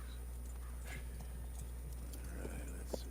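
Horse hooves clip-clop at a steady walk in the Red Dead Redemption 2 video game, soft and fairly distant over a constant low hum, with no talking.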